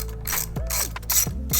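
A ratchet rapidly clicks while tightening motorcycle handlebar riser bolts on a Harley Dyna, a close, dense burst of clicks with brief stops between strokes.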